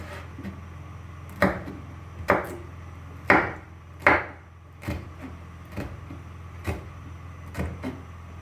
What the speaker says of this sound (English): chopping my onions the same way to give it that same shape as my bell pepper.